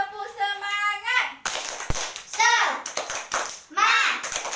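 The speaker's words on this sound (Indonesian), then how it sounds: "sebelum belajar kita tepuk semangat dulu biar semangat" Schoolchildren in an Indonesian classroom chant the tepuk semangat clapping routine in unison, voices rising in sung phrases punctuated by sharp group claps, fairly loud and close.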